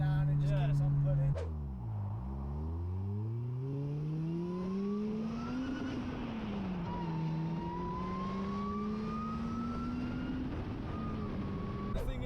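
Supercharged 350 bhp Honda Accord family saloon accelerating hard through long gears, a loud rising engine note with a gear change and a steady supercharger whine as it keeps pulling, with a voice briefly heard early on.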